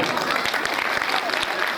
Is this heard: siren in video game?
no